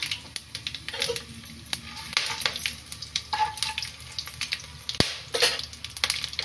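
Whole tempering spices sizzling in hot oil in a pan for a Bengali mutton liver curry, with a continuous crackling fry, light stirring and a few sharp clinks of a utensil against the pan.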